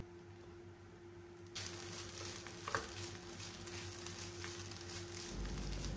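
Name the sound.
stirring rice with masala in a pan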